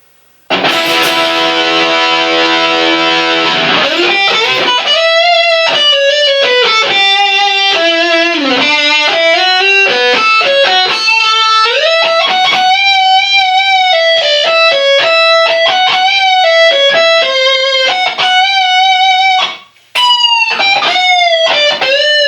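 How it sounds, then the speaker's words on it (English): A Fender Vintera '70s Telecaster Deluxe electric guitar, both pickups on, plays a long run of sustained, heavily distorted notes, loud and continuous, with a brief dropout near the end. "That setting there with the heavy distortion, that is really nice."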